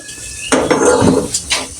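A metal wok (kadai) set down on a stove with a sharp clank, followed by a short scrape and rattle of metal, then a faint second knock, close by and brief.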